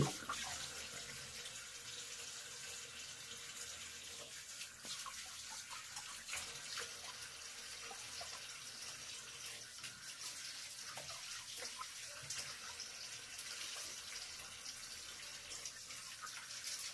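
Leafy greens are rinsed under a running tap, with a faint, continuous splash of water throughout.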